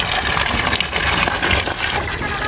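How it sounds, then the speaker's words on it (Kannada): Water gushes steadily and loudly from a tap in a continuous, forceful rush at close range, with no pauses and no speech. "ಹಿಂಗೆ ನೀರು ಬರ್ತೈತೆ ನೋಡ್ರಿ"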